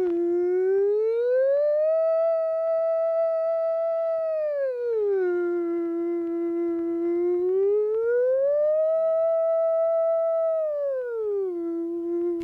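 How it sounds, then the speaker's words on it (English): A civil defense attack warning siren sounds a steady wavering tone, rising and falling slowly in long smooth sweeps, loud and continuous with no voices. "The other tone you may hear is 3 to 5 minutes of wavering tone."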